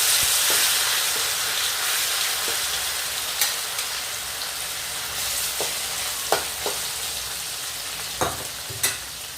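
Fish frying in hot oil in a pan, a loud continuous sizzle close by, broken by several sharp clinks and scrapes of a utensil against the pan.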